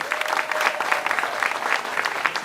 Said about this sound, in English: Keep that applause going for Judge Sunday